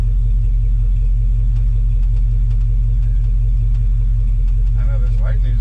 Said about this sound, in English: This is like the first time I've had my truck out on the road.